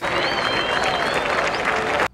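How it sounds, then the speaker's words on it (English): A small group at a car workshop gives a round of applause, a loud, even burst of clapping and a few voices that stops abruptly. "Give me a round of applause."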